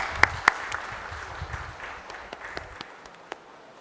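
Audience at a metal 3D printing machine launch event gives a faint, sparse round of applause, scattered individual claps standing out over a soft, distant background.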